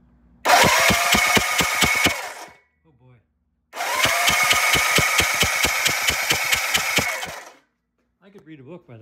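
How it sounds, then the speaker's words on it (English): A Norton motorcycle engine being cranked over with the plugs out to check for spark, two loud bursts of rapid rhythmic whirring and chuffing from the starter spin, each lasting a few seconds, separated by a brief pause, with faint voice afterward. "I'm going to do another spin of the motor."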